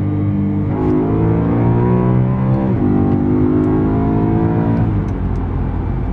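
A BMW E90 M3 with a seven-speed dual-clutch gearbox revs hard under acceleration. Its engine note climbs steeply to a high pitch, drops briefly at a gear change, then climbs again, loud and close throughout.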